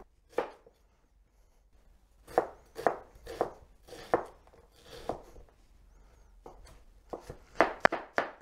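Onions are cut into small pieces with a knife on a board while preparing a couscous dish, an irregular run of sharp knocks separated by short pauses, quickening into a tight cluster near the end, close and alone.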